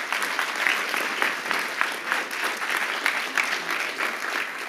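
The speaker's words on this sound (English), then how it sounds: "Let's give them a round of applause." An audience at a conference talk claps steadily, a dense wash of many hands applauding together at moderate volume, heard from within the room.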